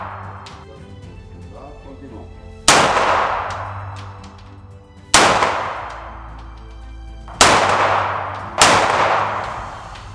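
Four loud, sharp pistol shots at a shooting range, spaced a couple of seconds apart, each cracking hard and ringing out with a long decaying echo, while an instructor speaks between shots.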